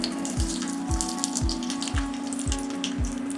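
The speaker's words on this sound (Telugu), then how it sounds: "ఆవాలు చిట్టపెట్టలాడిపోవాలి." Mustard seeds splutter in hot ghee as the tempering for Chennai sambar, with faint, scattered crackling pops over a low steady hum and soft, regularly spaced thuds, and no voices.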